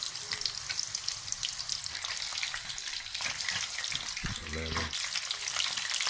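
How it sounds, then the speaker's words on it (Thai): Large battered sea shrimp deep-frying in oil over medium heat, giving a steady dense sizzle with crackling bubbles throughout, joined briefly by a short running-water sound near the end. "ต้องรอให้กุ้งออกเป็นสีเหลืองนะครับแป้งแล้วมันจะลอยขึ้นมาจากน้ำมัน"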